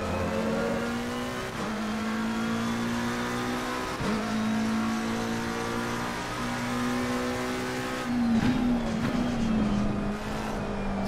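A race car in Assetto Corsa Competizione holds a loud, steady engine drone through gear shifts, then brakes hard into a quick corner as the pitch drops and the tires scrub and squeal, with no talking.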